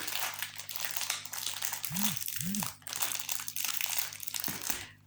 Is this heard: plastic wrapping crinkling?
yes